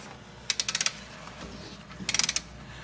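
A wrench ratcheting to tighten a small nut on Ford Super Duty Powerstroke rear brakes: two quick bursts of rapid clicks, close and crisp, separated by a short pause.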